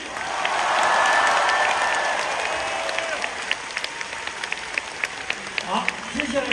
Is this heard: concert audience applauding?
yes